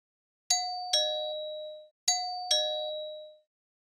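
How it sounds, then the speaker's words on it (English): A chime doorbell rings a clear two-note ding-dong twice in a row, each tone ringing out and fading against silence. "the doorbell rang again."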